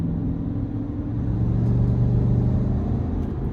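A 2026 GMC Sierra 1500 AT4X pickup with its 6.2-litre V8 cruises on the road, a steady low engine rumble and drone heard from the cabin with no talking.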